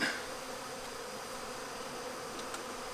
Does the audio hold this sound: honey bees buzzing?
yes